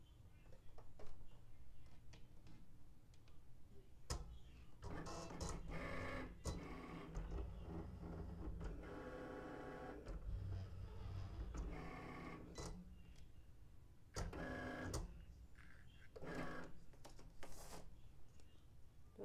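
A Cricut cutting machine works through iron-on vinyl, whirring and ticking in irregular mechanical bursts as the carriage moves, faint and close, with short louder motor passes spaced through the run.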